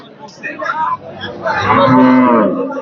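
Cow at a Hazratpur cattle market moos twice, a short call then a longer, louder drawn-out low moo, close by with faint crowd noise behind.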